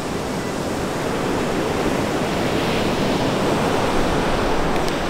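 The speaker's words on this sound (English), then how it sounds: "We're gonna go right down to the edge of the shore and get some shots of the waves." Ocean waves break on the shore with a loud, continuous, roaring wash of surf that fills the whole stretch evenly, close to the microphone, with no voices.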